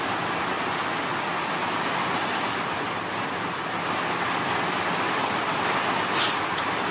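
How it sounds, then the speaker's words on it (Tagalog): Heavy rain pours in a steady, dense hiss that sounds like a constant wash of noise, continuous and fairly loud throughout, with no talk over it. "Ang lakas ng ulan."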